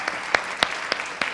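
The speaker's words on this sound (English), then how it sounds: "Please give our one a round of applause for coming in." Sparse, scattered claps from a small gathering at a spiritual talk, a few distinct hand claps spaced apart over a soft background rather than full applause.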